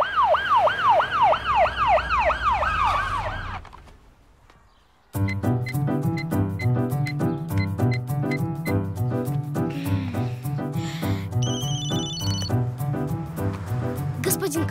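An ambulance siren wails in a fast rising-and-falling pattern for a few seconds, goes quiet briefly, then gives way to loud, busy music.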